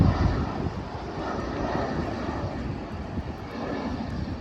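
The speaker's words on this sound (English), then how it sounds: "That's an airplane right there." An airplane drones overhead in an outdoor Bronx neighborhood near an airport, a steady broadband roar with gusts of wind rumbling against the microphone.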